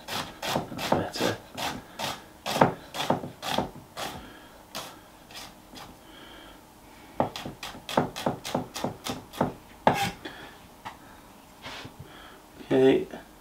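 A very sharp Ninja Stay Sharp kitchen knife slices an onion finely on a cutting board, giving rapid, rhythmic close chopping taps in bursts with short pauses between runs.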